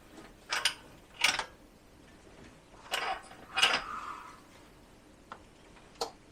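A car jack fitted with an extension is pumped to lift a Jaguar XK cylinder head, giving several separate metallic clanks and creaks in irregular bursts, close and fairly faint, followed by a couple of lighter ticks.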